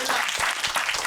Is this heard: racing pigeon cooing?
no